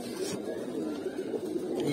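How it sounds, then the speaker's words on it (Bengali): Pigeons in a loft in Munshiganj, Bangladesh, give soft, low cooing calls against a steady background murmur, fairly faint and continuous with no clear speech. "এই যে এখানে আরো কবুতর আছে, ইভেন এই জায়গাও কবুতর আছে"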